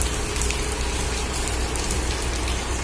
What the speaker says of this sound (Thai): ฝนตกดูเหมือนหนักขึ้นเรื่อยๆครับตกหนักขึ้นเรื่อยๆจะไม่หยุด